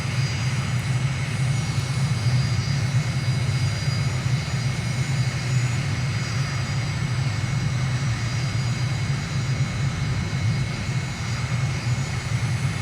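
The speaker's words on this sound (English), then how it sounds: "Let's pop the speed brake." An airliner in Microsoft Flight Simulator, on approach to N'Djamena in Chad with flaps fully down and the speed brake deployed, gives a steady, droning engine roar and low rumble of airflow, constant and unbroken throughout with no talk.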